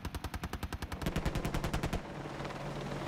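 Machine gun on an Apache helicopter fires one rapid, loud burst of closely spaced shots for about two seconds, then cuts off, leaving a rumbling tail of noise.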